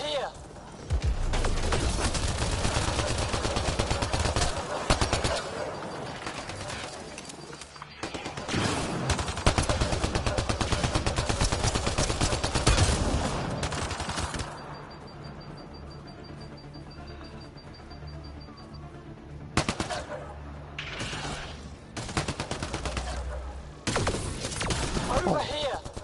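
Sci-fi gunfire from the shooter game Mass Effect Andromeda, dense bursts of shots in a close firefight with brief pauses between volleys, while players talk over the action.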